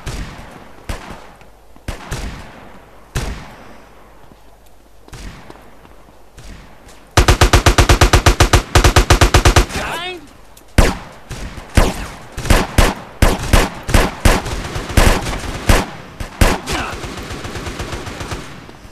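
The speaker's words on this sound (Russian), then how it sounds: "Чё в меня-то стреляет?" Gunfire in GTA San Andreas multiplayer: scattered single shots early on, then a dense, loud burst of rapid automatic fire around the middle, followed by a run of sharp, evenly spaced shots that continue to the end.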